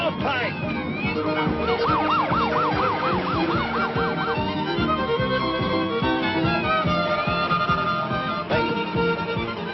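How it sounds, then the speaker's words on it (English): An emergency siren wails in rapid rising and falling sweeps, loud and sustained over rumbling traffic and engine noise in an action-movie street scene, with no talking. "is that a siren I hear?"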